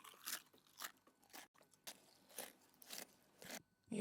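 A crunchy snack sample chopped from a song and resampled into a music beat, sounding as faint, quick crunching bites that recur in an uneven rhythm at low level.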